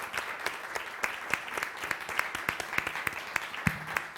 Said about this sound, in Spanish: creo que te vamos a aplaudir